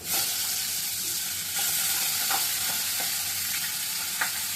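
Fish frying in hot oil in a home kitchen pan, a steady close hiss and crackle that continues throughout, with a few soft clinks of utensils against the pan.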